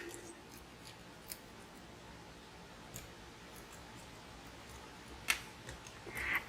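Scissors snip through foam tape during card-making, a few faint, sparse clicks and cuts against a quiet background, sharpest near the end.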